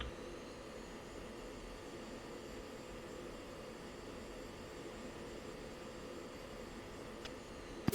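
A fighter jet rolls for takeoff on a runway in the Falcon BMS flight simulator, a steady, faint, even engine roar and rush that holds level throughout.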